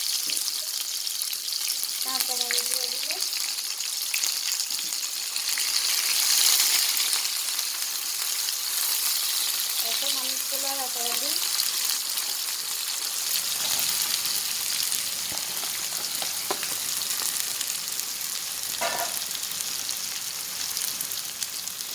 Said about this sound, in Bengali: এখন আমি পাতাকপি ভাজি করবো পাতাকপি ভাজি করার জন্য পর্যাপ্ত পরিমাণ তেল দিয়ে দিলাম আমি পেঁয়াজ দিয়ে দিলাম